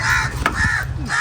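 A crow perched in a tree caws loudly and close, three harsh calls in quick succession with brief gaps between them.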